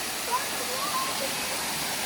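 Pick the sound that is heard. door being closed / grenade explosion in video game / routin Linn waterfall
routin Linn waterfall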